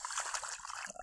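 Water runs and trickles steadily from a pipe in a cold outdoor spot, a brief close continuous flow with light splashing before it is shut off.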